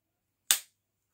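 A folding pocket knife with a MagnaCut steel blade snaps shut in one short, solid thud that fades quickly into silence.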